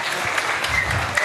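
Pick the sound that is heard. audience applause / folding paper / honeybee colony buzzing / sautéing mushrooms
audience applause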